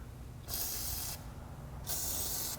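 Two bursts of penetrating oil aerosol spray hiss, each under a second long, close and sharp, separated by a brief pause over low background rumble, sprayed on a 1998 Mazda 626 ball joint.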